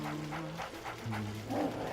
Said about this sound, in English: Let's listen to the dog effects in here.